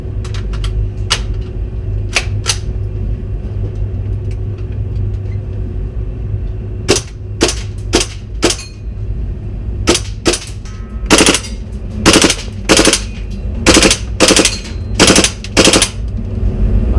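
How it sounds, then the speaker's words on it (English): A gas-operated airsoft L85 rifle fires sharp single shots in an indoor airsoft gun shop, first sparse and spaced apart, then quicker clusters of crisp cracks near the end over a low steady background hum. "This one's operated by gas. So the mechanism all functions every time you pull the trigger."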